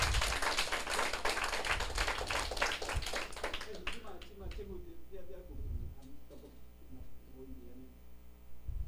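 Applause from a seated audience at a lecture on Taiwan's legal status, a burst of dense clapping that thins into scattered claps, with no talk over it.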